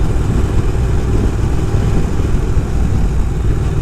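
Steady mid-pitched drone of a cafe racer motorcycle engine while riding on a road, loud and continuous with constant wind and road noise and no talking.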